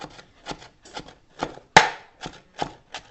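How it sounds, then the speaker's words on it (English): A knife chops fresh cilantro on a cutting board in a steady rhythm of about eight sharp, close knocks, one noticeably louder than the rest, with quiet gaps between strikes. "So right now we're chopping the cilantro."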